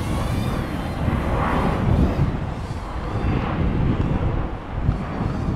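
Gusting wind buffets the air around a small BETAFPV Meteor75 ELRS drone in flight outdoors in rough conditions, giving a steady low roaring rumble that swells and eases, with a faint higher motor whine and no speech.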